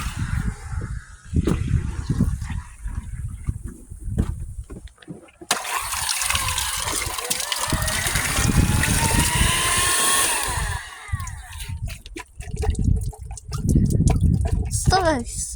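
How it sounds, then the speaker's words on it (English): A cordless vacuum cleaner sucks up water in a test, its motor whine and the gurgle of drawn-in liquid rising midway and holding steady over a broadband hiss, with a person talking over it at the start and again toward the end. "I'm gonna test the water with the vacuum cleaner"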